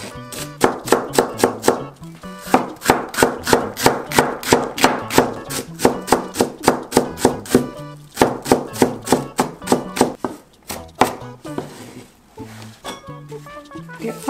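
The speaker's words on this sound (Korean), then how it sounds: "송송 다져줄게요." Knife finely chopping 120 g of onion on a cutting board, a fast run of crisp, close, evenly spaced chops that briefly pauses and resumes, with talk over it.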